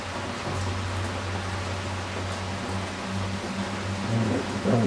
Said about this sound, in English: Early morning, enjoying the rain.